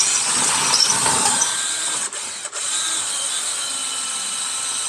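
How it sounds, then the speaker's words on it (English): A power drill fitted with a double-ended bit whines steadily in a race shop, the motor droning close and loud with a couple of brief dips near the middle. "I got these double-ended drill bits from Amazon."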